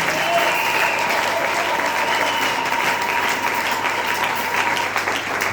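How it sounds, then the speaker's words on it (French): A church congregation claps and cheers loudly together, a dense, steady wash of applause with voices mixed in, continuous and close throughout. "Acclamons plus fort que cela notre Seigneur Jésus-Christ."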